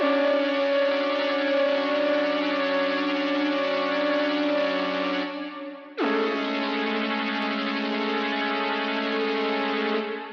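A Prophet 5 synthesizer plays a sustained, layered chord loop in a dark vibe, steady and loud, with a brief dip just before six seconds before the tones resume.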